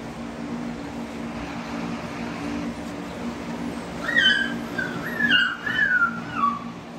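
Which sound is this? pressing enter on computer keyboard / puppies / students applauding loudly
puppies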